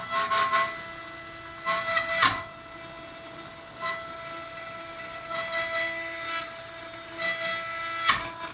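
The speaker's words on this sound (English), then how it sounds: "I'm just going to use this end mill because it's what I have." A straight end mill on a CNC machine bites into wood while carving a two-sided Viking mask, giving bursts of high whining cuts separated by quieter running stretches, with no talk.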